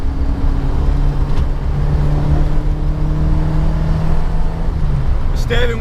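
A Peugeot 205 GTi engine drones loudly from inside the cabin while driving, a steady low growl that holds a constant pitch before fading slightly, with a brief sharper noise at the end.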